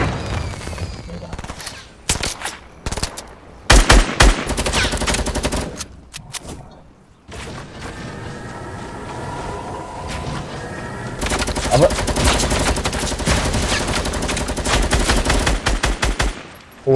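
Gunfire in the video game Fortnite: loud bursts of rapid automatic shots and single cracks, dense sustained volleys with brief gaps, with a player's voice heard at times.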